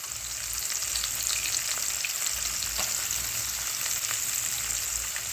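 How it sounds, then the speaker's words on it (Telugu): Chopped onion frying in oil with tempering spices and asafoetida in a pan gives a steady, dense sizzle and crackle with occasional faint stirring ticks. It is continuous and close, with no voices. "అది కూడా వేసేసుకుని ఇలాగా పూర్తిగా వేయించేసుకోవాలి"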